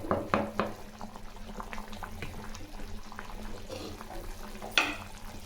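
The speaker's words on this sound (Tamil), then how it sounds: "நல்லா குழம்பு கொதிக்குது." A pot of tomato kuzhambu boils steadily, with continuous bubbling and soft popping close up. One sharper bubble burst stands out near the end, and no voices are heard.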